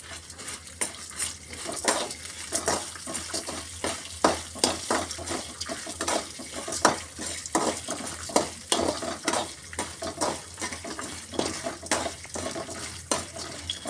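Urad dal and chana dal fry in a pan for chammanthi podi, a soft sizzle under repeated scraping and clinking of a spoon stirring against the metal, close and steady.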